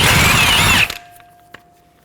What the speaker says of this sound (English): Remove the axle nut using a 30mm socket.